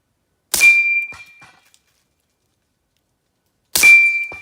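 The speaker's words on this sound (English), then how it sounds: "I just want you to hear how loud this steel is as compared to the report of this" Two rounds from a suppressed 9mm STI HOST pistol strike a steel target, each giving a loud, bright metallic ding with a lingering ring, a few seconds apart, the muffled shot itself barely evident.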